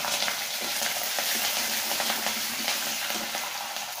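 Dried red chillies fry in hot oil for a Tamil village-style drumstick puli kuzhambu, giving a dense, continuous close sizzle with scattered small pops and crackles and no voices.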